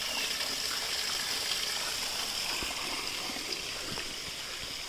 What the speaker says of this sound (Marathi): इथं आहे गायमुख इथे कंटिन्यू पाणी असतं